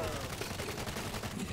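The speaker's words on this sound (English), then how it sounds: "Machine gun is ready." Rapid machine gun fire in the zombie shooter World War Z, a dense continuous burst of gunfire filling the short span at steady loudness.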